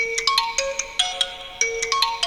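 A phone ringtone chimes in a quick repeating electronic melody, bright and clear, with sharp note attacks recurring over about two seconds and no voices.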